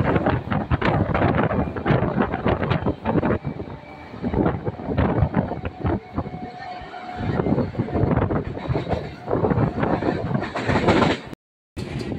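A Howrah–Panskura local train runs over the Damodar river bridge, a loud continuous roar and rattle of wheels and girders with rushing wind buffeting the microphone, and a brief cutout near the end.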